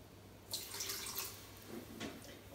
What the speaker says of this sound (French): je vais mettre 30 g d'eau